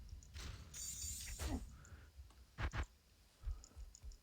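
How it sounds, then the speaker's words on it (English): Computer mouse clicking during a game of Diablo 2: a few sharp, close clicks spread out and irregular, with faint rustling between them and no talking. "Listen to the mouse clicks, actually."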